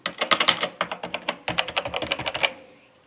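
Rapid clattering keystrokes on an old computer keyboard in an abandoned building, typed in quick bursts with a brief pause midway, close and fairly loud with no voices.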